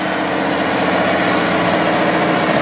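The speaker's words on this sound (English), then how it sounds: "The idle's already starting to come down." A tractor-trailer truck engine idles steadily and loudly, dense continuous rumble with no talk, as the engine fails while spewing coolant and heavy smoke.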